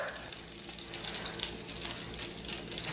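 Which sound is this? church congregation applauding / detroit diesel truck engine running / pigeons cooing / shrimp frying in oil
shrimp frying in oil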